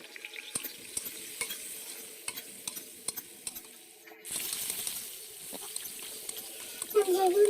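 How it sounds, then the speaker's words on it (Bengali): Potatoes fry in mustard oil with salt and turmeric in a wok, while a utensil scrapes and clinks in sharp irregular taps over a soft sizzle that swells louder partway through. "এবার এই কড়াইতে নিয়ে অল্প একটু সরষের তেল দিয়ে নেবো এবং শুকনো করে রাখা আলু, এটা আমি ভালোভাবে ভেজে নেবো নুন হলুদ দিয়ে"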